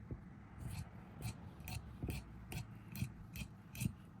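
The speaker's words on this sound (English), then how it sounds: "I'm just going to cut off that selvage" Scissors cut along the selvage of woollen cloth in a regular series of about eight crisp, quiet snips, each roughly half a second apart, with faint rustling of the fabric between them.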